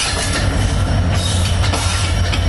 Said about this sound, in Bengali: সেই লোকোমোটিভকে শান্টিং করিয়ে এদিকে লাগানো হচ্ছে